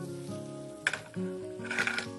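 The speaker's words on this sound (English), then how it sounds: "Now that our butter is hot, add some of this garlic and this onion in here." Chopped garlic and onion hit hot butter in a pan, giving a sudden close sizzle that flares, dips, then rises again over a steady tonal background.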